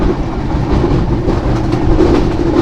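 Onboard the Sagardari Express intercity train at speed, a loud, steady rumble of wheels on rail with faint rhythmic clatter, heard from inside the carriage with no voices.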